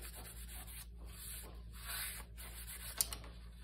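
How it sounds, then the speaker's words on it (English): Steady dry rubbing against a journal page to lift glue off the paper, a close scratchy friction that runs on in short strokes, with a small sharp tick near the end. "I'm just rubbing this to where the glue comes off"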